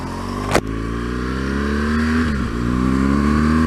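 A 2013 BMW R1200GS motorcycle accelerating hard down the road, its engine a loud, close, sustained drone that climbs steadily in pitch, with a sharp burst near the start and a brief dip partway through.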